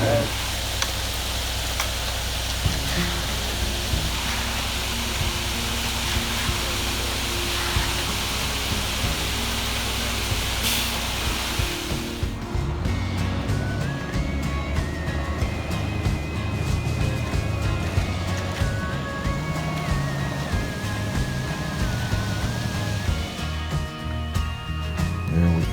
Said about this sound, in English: Hopefully you can hear over the concrete truck.